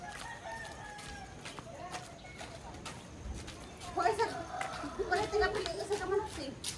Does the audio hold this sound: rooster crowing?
yes